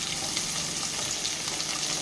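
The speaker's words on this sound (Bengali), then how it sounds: "যেহেতু এটা আমরা ভাজা খাবো বলে আমরা কড়া করেই ভেজে নেবো, আর একটুখানি ভেজে নেবো" Hilsa fish fries crisply in hot oil, a dense, continuous close-up sizzle with a fine crackling texture, steady in loudness and free of voices.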